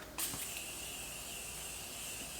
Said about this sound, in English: I like to set my face with setting spray before I do my eye makeup